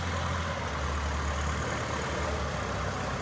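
A Kubota L4508 tractor engine runs at a steady idle; its exhaust is said to sound slightly odd. The low, even rumble is close and continuous, with no voices.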